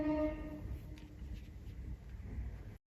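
A truck horn honks outside, a sustained, fairly distant blare at the start that fades into low traffic rumble before cutting off.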